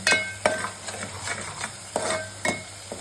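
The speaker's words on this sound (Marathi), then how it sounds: "वाटण छानपैकी असं भाजून घेऊया 10 मिनिटं" A masala paste with turmeric roasts in a pan, with a spatula scraping and clinking against the metal in a loose, repeating rhythm over a soft background sizzle, close and fairly loud.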